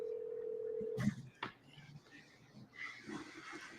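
A phone call rings out as a steady, faint electronic tone for about a second. It cuts off abruptly, leaving soft clicks, rustling and low background sound.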